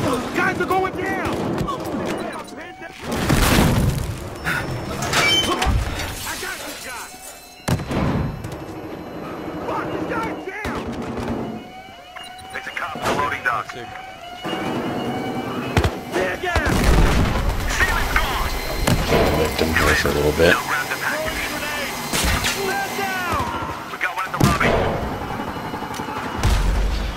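Gunfire and explosions from a Battlefield Hardline bank-vault heist match, with repeated loud bursts and booms, including a grenade blast, layered over continuous battle noise and players talking throughout.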